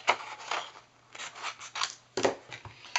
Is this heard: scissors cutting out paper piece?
yes